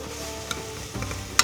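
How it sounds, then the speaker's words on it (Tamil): Ginger garlic paste with green chillies sautéing in hot oil, a soft steady sizzle with a few light stirring scrapes and one sharper clink near the end, close up. "அடுத்து இஞ்சி பூண்டு பேஸ்ட் ஆட் பண்ணுறோம். நல்லா இதோட ரா ஸ்மெல் போகிற வரைக்கும் நல்லா வதக்குங்க."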